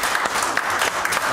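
A church congregation claps together during a Sunday service, a steady burst of dense hand clapping that lasts about a second with no voices over it.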